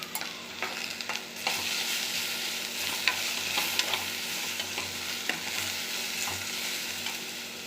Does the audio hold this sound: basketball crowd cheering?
no